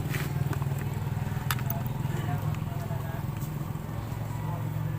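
A Rapid 150 motorcycle with a battery that won't charge, started using an impact-driver battery, runs in a steady, close, low idle drone for the full stretch, with a voice speaking over it.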